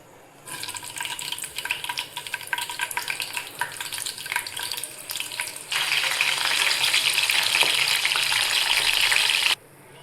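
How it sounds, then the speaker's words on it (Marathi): Green chillies go into hot oil. A light crackle builds, then bursts into a loud, dense, continuous sizzle that holds close and steady for several seconds before cutting off abruptly. "तेल मस्तपैकी तापलंय. आता त्याच्यात मिरच्या टाकायच्या पहिले आपल्या."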